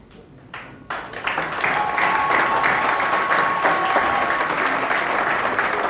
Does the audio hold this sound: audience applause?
yes